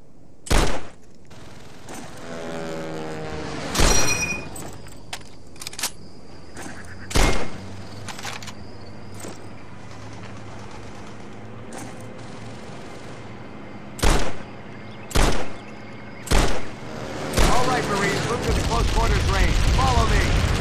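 Single rifle shots on a training range in Call of Duty: World at War, about eight sharp, loud cracks spaced irregularly over steady background ambience, with voices speaking between them.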